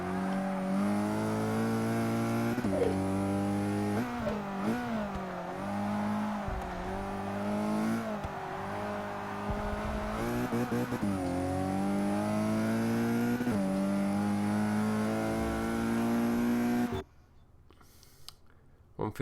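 A race car engine from the racing game Forza 6 revs and holds strong, with harmonic tones rising and falling through gear changes for about seventeen seconds before cutting out abruptly.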